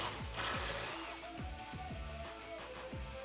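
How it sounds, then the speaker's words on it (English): A 10mm socket on a ratchet loosens a brake line bracket bolt on a Jeep Wrangler JK, giving a quick series of repeated ratcheting clicks close by, fairly quiet, with faint workshop hum. "I'm going to use that same 10mm socket and remove that bolt"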